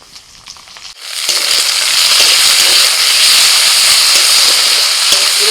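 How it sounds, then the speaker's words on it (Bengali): Chopped onion and tomato fry in hot oil in a pan over a tempering of bay leaf and dried red chili. A loud, steady sizzling hiss starts after about a second and runs continuously with no talking. "পেঁয়াজ খুব ভালো করে ভেজে নিয়ে দিয়ে দিচ্ছি টমেটো কুচি"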